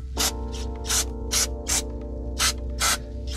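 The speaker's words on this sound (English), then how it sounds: "you gotta use some brake cleaner and really just try and get any of the leftover residue out" Brake cleaner is sprayed onto the brake calipers of an E92 BMW M3 in seven short, sharp aerosol bursts at a roughly even rhythm, loud and close over a low background hum.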